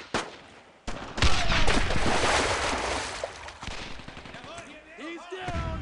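Gunfire in the World War II shooter Brothers in Arms, with loud bursts of rifle and machine-gun fire and heavy blasts rattling almost continuously while soldiers shout over the battle.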